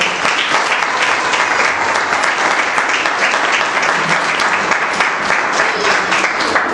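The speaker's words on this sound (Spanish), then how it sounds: "Dale un fuerte aplauso al Señor." Church congregation breaks into loud, sustained applause, dense steady clapping from many hands filling the room without pause.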